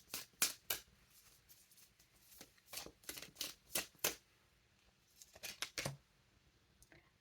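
Tarot or oracle cards being shuffled and drawn in a quiet room, several short crisp riffles and slaps scattered across the stretch with pauses between, no talking.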